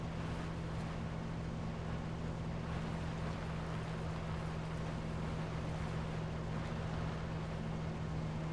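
Steady vehicle engine running in the video game PUBG, a continuous droning hum with a strong low tone and broad rushing noise throughout, no talk.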